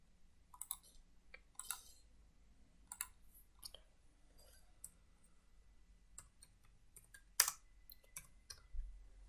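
Sparse clicks of typing on a computer keyboard while text is entered in PowerPoint 2013: scattered single taps and short bursts with pauses between them, close and fairly quiet, with no voice over them.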